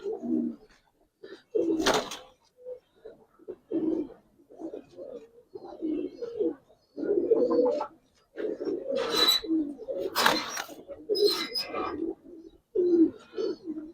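Jalla pigeons coo repeatedly in low, throaty bursts, close by, with a few sharper flutters or chirps breaking through at intervals.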